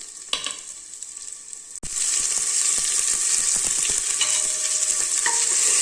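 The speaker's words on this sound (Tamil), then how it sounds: "தக்காளியெல்லாம் நல்லா வதங்கிருச்சுங்க." Tomato fries with mustard seeds and ginger-garlic paste in a pan. A quieter hiss with a sharp clink gives way after a scrape to a loud, steady sizzle that holds to the end under occasional stirring clatter.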